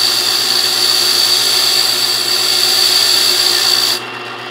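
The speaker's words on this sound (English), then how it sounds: "We're going to deburr it." A key cutting machine deburrs a freshly cut bump key, giving a loud, steady high-pitched grinding whir that runs continuously, then drops abruptly near the end.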